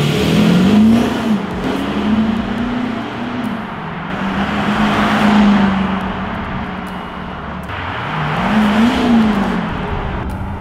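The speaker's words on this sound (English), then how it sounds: "we're going to head out now and we're going to show you how the exhaust sounds" Van fitted with Revo Stage 1 software accelerating on the road, its exhaust giving a low droning engine note that rises and falls through repeated pulls, loud and close with no talk.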